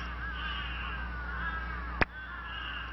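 Human voices imitate crow caws, drawn-out raspy calls overlapping, with a sharp click or knock near the end.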